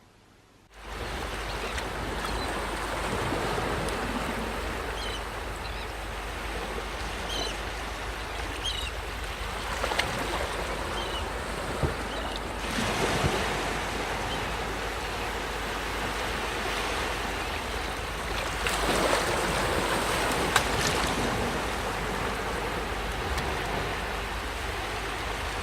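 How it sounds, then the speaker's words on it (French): Ocean waves wash in a steady, continuous roar of surf, with a few slightly stronger surges rolling through. No voices are heard. "laisse-toi bercer par le bruit des vagues"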